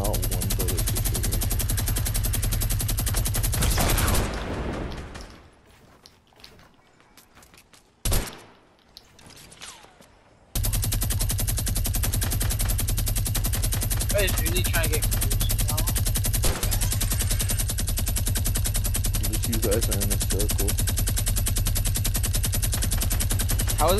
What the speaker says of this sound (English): How is this guy taking all my minigun shots and just eating them?